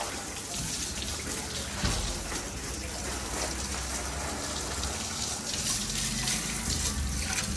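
Water sprays steadily onto a Royal Enfield motorcycle during a wash, a loud continuous hiss and splatter with no break across the whole stretch.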